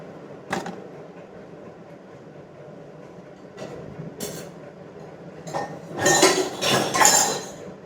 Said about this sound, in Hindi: ये मैंने ले लिया है फ्राई पैन, मतलब ये सॉस पैन।